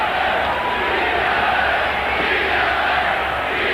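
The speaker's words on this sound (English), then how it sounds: "Crowd is starting to chant "Beat LA."" A Boston Garden crowd at a 1986 Celtics basketball game roars in a thick, sustained mass, chanting in unison with no break, the whole arena loud and even from start to finish.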